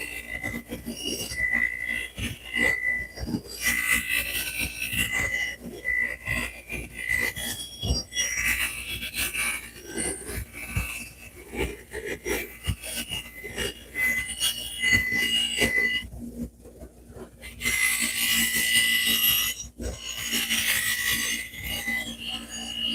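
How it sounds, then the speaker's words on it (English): Rust being rubbed off a metal tool, a close, steady scraping and rasping in repeated strokes with brief pauses, continuing for a long stretch with no talk. "The rust is coming off with not a whole lot of extra work needs to be done."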